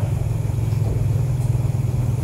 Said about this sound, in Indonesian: Motor belakang tu